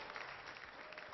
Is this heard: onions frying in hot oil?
no